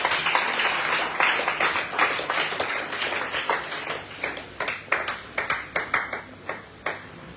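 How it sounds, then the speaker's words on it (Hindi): An audience at a recitation competition applauds children who danced, with dense clapping that thins out into scattered, distinct single claps toward the end. "जोरदार तालियां बच्चों के लिए।"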